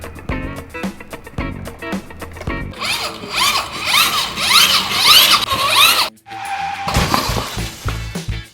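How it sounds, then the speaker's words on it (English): A motorcycle falls apart with a sharp clattering crash near the end, after a stretch of busy, rising-and-falling noise and a brief silence. "Oh no, my bike fell apart."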